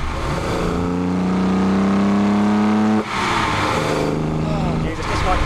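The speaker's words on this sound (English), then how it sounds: "That music that those carburetors make, I want to hear it, and I want to hear it all the time." A carbureted Holden engine revs hard, its steady harmonic drone climbing and holding before dropping off around the three-second mark and surging again, loud and close, with a voice speaking over parts of it.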